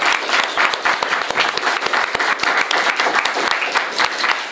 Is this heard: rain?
no